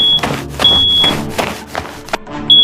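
Loud, repeated high-pitched electronic fire alarm tones sound in steady bursts, mixed with music and other noise.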